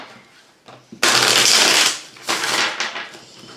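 A new, nearly unused tarot deck being shuffled by hand in several portions: a faint tap, then a loud riffling burst of about a second, and a second shorter ruffle, close and alone.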